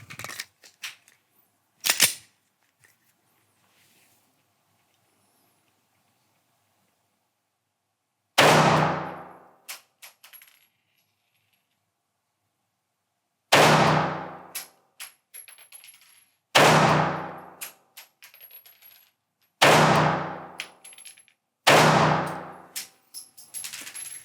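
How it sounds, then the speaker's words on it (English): A Glock 48 pistol fires 147 grain ammunition outdoors: one early shot, then five sharp, loud reports spaced a few seconds apart, each with a short ringing decay and quiet gaps between. "I'm going to follow that up now with 147 grains and see if it feels any different,"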